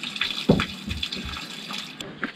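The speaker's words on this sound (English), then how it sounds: "we're going to drain the little bit of water that's left in there" Water drains from the fresh water tank of a camper van, a close splashing, gushing flow with uneven surges and trickles that runs steadily without pause.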